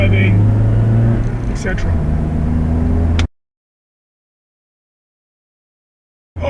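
A car drives through slow Almaty traffic, its low engine rumble steady inside the cabin under talking, then the sound cuts out abruptly into silence for several seconds.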